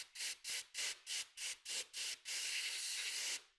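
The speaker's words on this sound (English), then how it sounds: "So we're also going to want to take our compressed air and try and back feed it a little bit if we can." Compressed air blasts into the exhaust of an HP ZBook 17 G3 laptop during internal cleaning, seven short hissing bursts in a quick regular rhythm followed by one longer sustained spray, close and loud with no talking.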